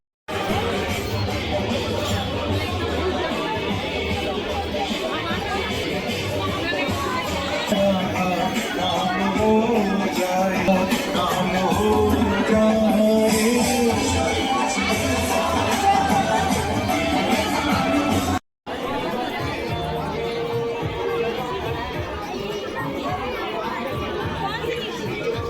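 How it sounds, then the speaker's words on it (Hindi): Dense, continuous chatter from a large crowd of devotees fills a Radha Krishna temple during Janmashtami in Kawardha, many overlapping voices close and loud, with a brief cut near the end. "यहाँ पे देख सकते हो कितना ज़्यादा भीड़ बन चुकी है"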